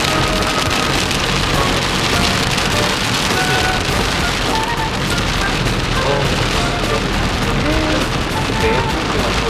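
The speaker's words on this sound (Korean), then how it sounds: "해는 넘어가고 있는데 갑자기 비가 내리고 있네요." Sudden rain falls steadily on the road to Shillong at sunset, a dense, loud patter drumming on a surface throughout, with faint voices underneath.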